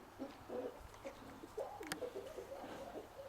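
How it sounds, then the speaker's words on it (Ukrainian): Pigeons, including a bar-tailed one, coo softly with low, rolling calls repeating over quiet background noise, fairly close. "Це рябохвостий голубок"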